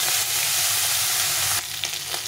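Small chun fish frying in oil in a wok, a loud, steady sizzle that briefly dips and then returns with sharper crackling and spattering, likely as the pieces are moved, with no one speaking.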